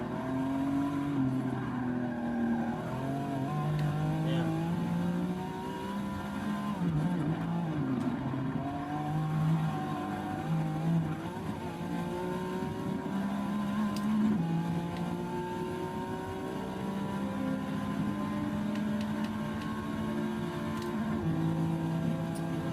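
A Porsche race car in Forza Motorsport 6 roars down a long straight, its engine note climbing and shifting through gears steadily, with occasional faint tire squeal.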